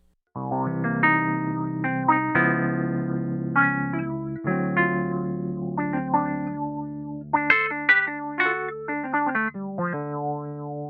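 An Arturia Wurli V electric piano with compressor and EQ plays a melodic phrase with chords and single notes, its tone smooth and evenly controlled, with a slight shimmering effect.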